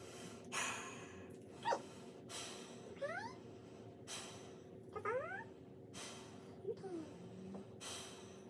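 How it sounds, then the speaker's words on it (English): Deep breaths taken by a patient during a head-to-toe medical exam, several soft breathy pulses at steady intervals, close and quiet, with brief short vocal sounds in between. "So just keep taking big deep breaths."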